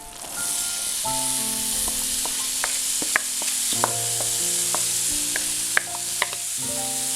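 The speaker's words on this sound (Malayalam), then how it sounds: "ഇനിയിപ്പോൾ നമുക്കിതിലേക്ക് അരിഞ്ഞു വെച്ചേക്കുന്ന ചെമ്മിപ്പുളി ചേർക്കാം." Chopped bilimbi hits hot oil with chili powder for a quick pickle and sizzles loudly and steadily, with occasional sharp clinks of stirring and faint tonal music underneath.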